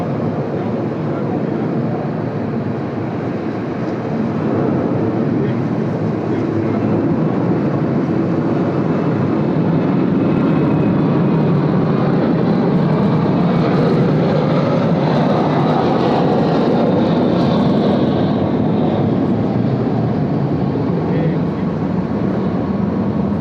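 A plane lands on runway 34 left at Sydney Airport, its steady loud roar filling the whole stretch and swelling slightly midway before holding level.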